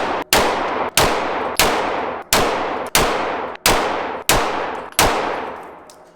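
Eight sharp gunshots fired one at a time into a downed target at a steady pace of roughly one per second. Each loud crack is followed by a decaying ringing tail. No talking.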